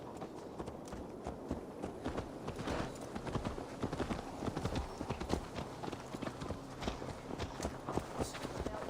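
Horse hooves clip-clop steadily in Assassin's Creed Valhalla, a continuous walking rhythm of close, moderately loud hoof strikes over a busy game soundscape.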